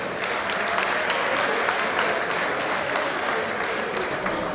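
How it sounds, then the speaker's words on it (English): Dense, sustained applause from an alumni association audience welcoming their president, many hands clapping steadily and loudly throughout. "A round of applause for him."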